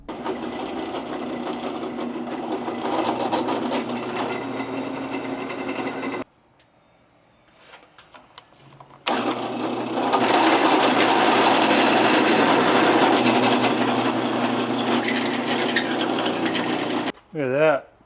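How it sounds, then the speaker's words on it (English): Power drill boring through a steel Comanche bumper with a 21/64 bit, a loud steady whine running for about six seconds, a short pause with faint handling noise, then a second long sustained drilling burst. "So I'm gonna drill it through with a 21/64 bit to begin with."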